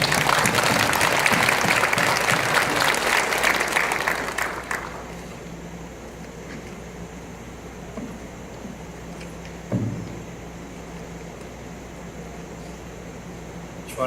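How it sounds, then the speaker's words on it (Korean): Warm applause from a church congregation welcoming a visiting missionary pastor, a dense burst of clapping for about five seconds that then fades to quiet room tone with a faint thump. "뜨거운 박수로 환영하겠습니다"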